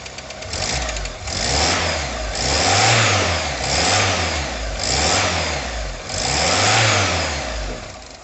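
A cold 1989 VW Golf 2 with a 1.8 engine and Pierburg carburetor runs loud and close, revved repeatedly in a steady rhythm of rising and falling surges over a rough idle.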